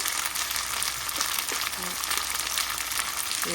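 Chicken gizzards and liver fry with coriander powder, turmeric and red chili powder, a steady loud sizzle and crackle filling the pan while being stirred, with no pauses.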